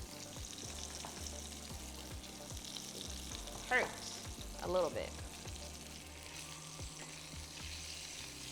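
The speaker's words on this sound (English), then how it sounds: "And just kind of cook these down in the the oil." Chicken thighs fry in hot oil in a single pot, giving a soft, steady sizzle with a few brief spatters, while a person speaks briefly over the cooking.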